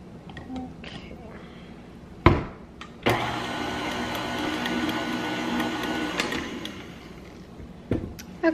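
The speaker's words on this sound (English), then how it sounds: "When you're blending wet and dry ingredients like this in a mixer, you always have to scrape down the sides." An electric mixer blends wet and dry ingredients for red velvet cake batter, its motor whirring steadily for a few seconds between clattering bumps, with a person talking nearby.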